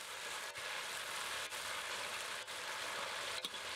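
Spiders fry in a pan with a loud, dense, continuous sizzle, briefly dipping now and then, close by and with no voices.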